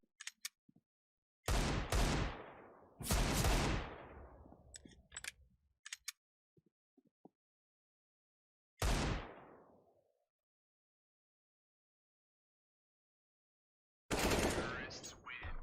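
Loud, separate gunshots with ringing decay in a shooter video game, Desert Eagle pistol fire: a few spaced blasts and a quick pair, with faint clicks between and long silent gaps.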